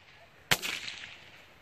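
A Moon Traveler bottle rocket bursts with a single sharp, gunshot-like bang, followed by a brief crackling tail that fades within about half a second, set against quiet outdoor background.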